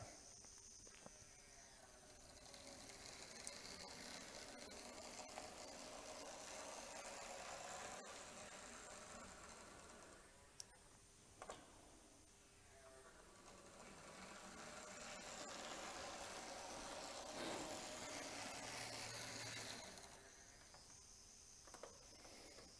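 A Lima VLine B class model locomotive runs with a faint, thin motor whine and a rattly buzz, rising and falling as it travels, heard quietly at a distance.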